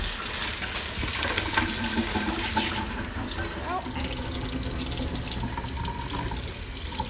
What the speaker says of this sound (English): You're gonna run the water.